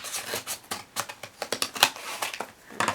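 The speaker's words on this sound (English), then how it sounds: "Have to use scissors again." Scissors snip and rustle through the packaging of a small blind box toy, a rapid run of close, crisp cuts with crinkling plastic and no talking.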